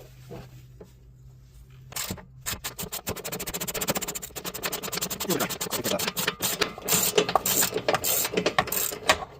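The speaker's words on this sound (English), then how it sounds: "I'm going to get these two bolts out" A ratchet fitted with an 18mm socket backs out bolts on the rear sway bar mount of a Can-Am Maverick X3, producing rapid, close, dry clicking bursts that quicken and grow louder over several seconds.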